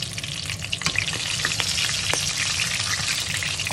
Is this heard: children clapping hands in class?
no